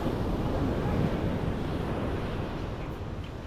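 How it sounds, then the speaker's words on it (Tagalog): Fairly large sea waves wash steadily onto a beach, giving a continuous close roar of surf. Wind buffets the microphone, and no voices are heard. "Ganda ng dagat, mga kaping, kaso medyo malalaki ang alon."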